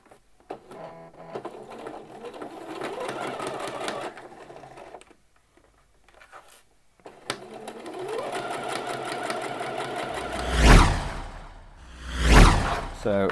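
A domestic sewing machine stitches a trouser seam on Thai wrap trousers, whirring steadily over long stretches with a brief pause, then two swelling bursts of rapid stitching at the end; someone speaks quietly at the start.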